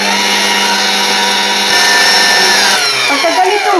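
Electric mixer with a whisk attachment beating egg whites on medium speed in a bowl, a loud steady whine close by that shifts pitch and turns rougher near the end.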